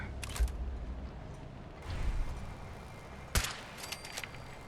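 A Fallout 4 firefight: several sharp gunshots crack at scattered intervals, some close and loud, others fainter, with quieter rustling and ambience in between.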